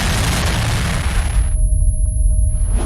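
A loud explosion effect, a deep roaring boom with crackling debris that rumbles on and slowly tails off, no talking.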